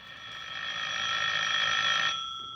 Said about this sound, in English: I heard my phone ringing.